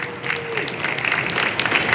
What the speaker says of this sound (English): let's take one more round of applause for all of you